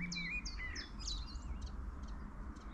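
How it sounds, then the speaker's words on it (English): Several birds sing and chirp in spring countryside by a river, bright overlapping whistled phrases near the start giving way to scattered fainter calls over a low background rumble. "Birds singing"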